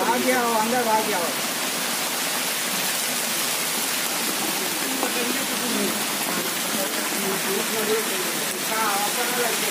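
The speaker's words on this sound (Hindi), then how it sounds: "ये देखिए ज़बरदस्त बारिश हो रही है" Steady heavy first rain of the season roaring close by in Khalilabad, Uttar Pradesh, with faint voices murmuring underneath at the start and end.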